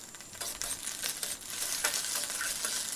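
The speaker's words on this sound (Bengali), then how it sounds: "তো এখন খুব ভালোভাবে আমি এখন মিক্স করে নিচ্ছি" Egg frying in mustard oil in a pan while being stirred, with a steady sizzle and repeated scraping strokes over about three seconds, no talking.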